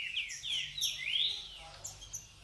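Many birds chirp at a professional breeder's aviary housing over a thousand birds in Rio Bonito, Brazil, with overlapping high, sweeping calls that are faint and somewhat distant.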